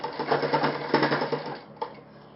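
Sewing machine running a quick stitching burst on a shirt sleeve cuff, rapid rhythmic needle clatter for about a second and a half, then a brief pause and a final short knock, close up.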